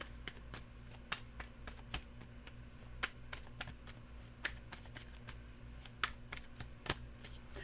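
Tarot cards being shuffled and drawn, with a rapid run of crisp, close card slaps and flicks in an uneven rhythm over a faint low hum, and nobody speaking.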